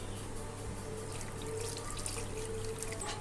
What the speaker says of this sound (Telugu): ముక్క మునిగే వరకు చింతపండు పులుసు పోసుకుందామండి